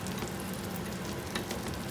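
Chicken wrap frying in butter in a hot pan, giving a steady, dense sizzle with crackling pops throughout, close and even in loudness, with no voices.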